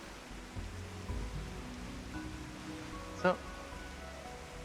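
Steady rain hiss in rainy Edelshire in the video game Final Fantasy XIV, a soft continuous wash with a short voice at the start and a brief chiming tone partway through.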